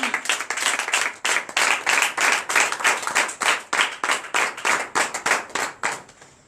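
A church congregation at a night deliverance and prophecy service claps in rhythmic unison, sharp regular beats close and loud throughout, with a faint burst of acclaim behind them.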